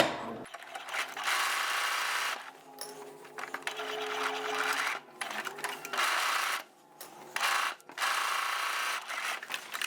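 A sewing machine stitches cotton gift bag pieces together in close, quick bursts of rapid mechanical whirring, separated by brief pauses and faint handling rustles.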